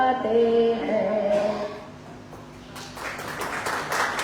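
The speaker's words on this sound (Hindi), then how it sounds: "जोरदार तालियां।" Applause from the audience at a Hindi poetry gathering breaks out after a sung line, a moderate wash of clapping that lasts to the end.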